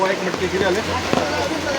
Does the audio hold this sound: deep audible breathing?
no